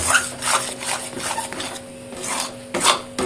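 Kochuri filling being stirred in a pan over low flame, a continuous scraping and rubbing of spoon against metal with uneven strokes, close up and without speech.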